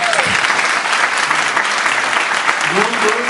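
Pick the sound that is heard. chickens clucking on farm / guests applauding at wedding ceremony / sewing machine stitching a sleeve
guests applauding at wedding ceremony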